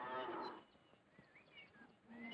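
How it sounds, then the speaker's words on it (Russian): Cattle herded by a young herdsman in an old Russian film scene low a few times; a loud, drawn-out moo opens, followed by quieter lowing with faint outdoor ambience and no talk. "На-ка вот, сгони коров грудкой."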